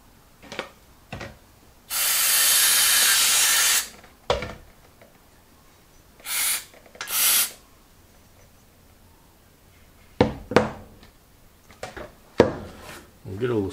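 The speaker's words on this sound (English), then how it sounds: "we'll give it a bit of a hit with the brake cleaner" Brake cleaner sprayed onto a Zenith carburetor from an Allis Chalmers Model EB tractor, a two-second loud hissing burst followed by two shorter spurts, mixed with clicks and handling knocks of parts.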